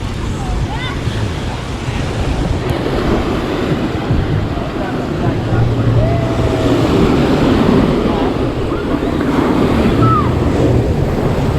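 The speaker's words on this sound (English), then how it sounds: "I'm gonna try and get some video of people getting rolled by the waves" Ocean surf on the North Kona coast of Hawaii Island rolls and crashes continuously up close, mixed with gusty wind rumbling against the microphone.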